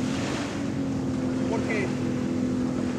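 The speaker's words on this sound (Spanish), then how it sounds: "las lanchas que no me dejan trabajar bien" A motorboat engine drones steadily on a river, a constant loud buzzing hum mixed with wind noise and lapping water, with a voice faintly underneath.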